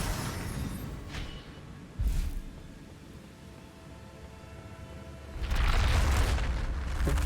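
A fire spell cast in Hogwarts Legacy, heard as two short whooshing bursts followed by a loud, sustained roaring blast near the end, over a low rumbling game backdrop.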